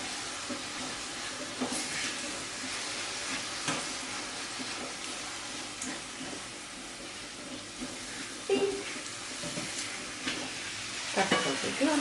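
Sunflower seeds and milk frying in a pan while being stirred, a steady close sizzle with scraping stir strokes and a few brief louder clinks; no talking.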